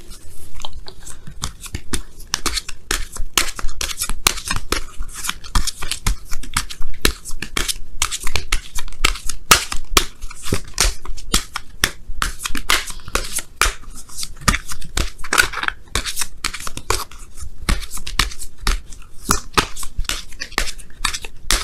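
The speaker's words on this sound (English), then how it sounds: "I'm going to give you guys a quick shuffle here" Tarot cards are shuffled continuously for a long stretch, a dense run of crisp riffling and slapping, close and steady.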